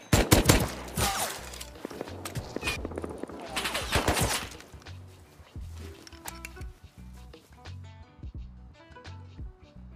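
Automated turrets in Rust fire rapid, hard bursts of gunfire close by, dense at first and then thinning into scattered shots and clatter over the rest of the stretch.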